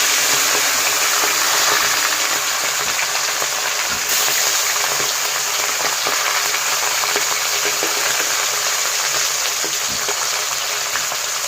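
Pieces of fish, cut like hilsa, fry in a pan with a steady, loud broadband sizzle that holds for the whole stretch, with small pops and crackles and no voices.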